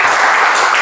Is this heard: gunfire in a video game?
no